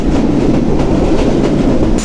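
The Rocket Mail train speeding along broad gauge track, a loud, close, continuous rumble and rattle of the carriage with no pauses.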